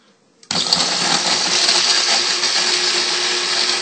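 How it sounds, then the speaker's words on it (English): Blender starts abruptly and runs at a steady loud whir, emulsifying a salad dressing with white wine vinegar for a warm napa cabbage and goat cheese salad, with no talk over it. "we're just going to blend this up"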